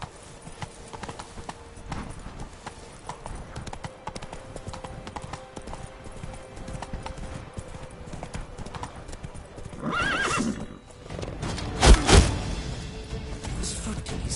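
Roach, a horse in a PS4 video game, clip-clops along at a steady gallop with loud whinnies near the end, heard over faint background sound.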